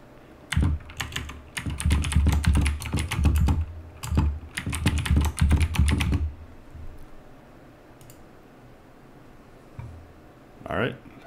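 Someone types a password on a computer keyboard, quick bursts of close, crisp key clicks in two flurries, then a quieter stretch with a few stray taps.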